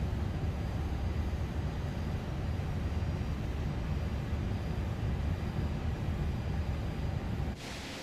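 An Airbus A300 takes off in a flight simulator, giving a steady, loud roar of jet engines that holds for several seconds before dropping off sharply near the end.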